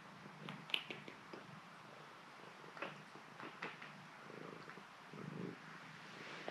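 Soft, close purring from a cat rumbles quietly, with a few light clicks and rustles scattered over it; no talking.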